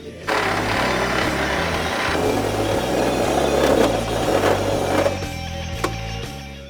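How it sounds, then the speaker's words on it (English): A power drill with a step drill bit whines steadily while cutting a hole through a Datsun 240Z body panel, its motor pitch wavering and rising for several seconds before winding down. "So we'll do a step drill to go big"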